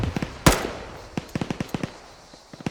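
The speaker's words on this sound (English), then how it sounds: "I'll just shoot left of it then." Rifle shots in a military realism video game, a sharp loud crack followed by a string of quicker, lighter pops spaced irregularly, dry and close with little echo.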